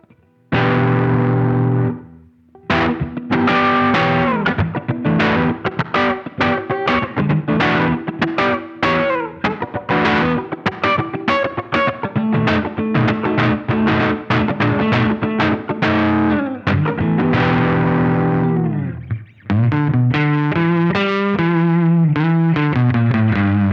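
An electric guitar played through the Karen overdrive pedal with the tone control switched off gives loud, gritty, distorted chords and single-note runs that ring out continuously before a short break and a final phrase.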